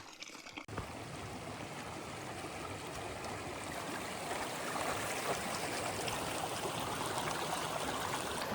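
Decker Creek in the Sawtooth Mountains, a continuous rushing, burbling flow of water close by, steady and full after a brief quieter moment at the start, with no voices.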